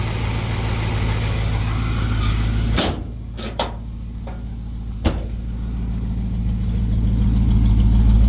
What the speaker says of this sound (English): the engine just sounds incredible